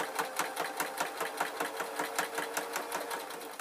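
A sewing machine stitches a waistcoat in a steady, rapid rhythmic whirr of needle strokes, close and continuous throughout with no talk.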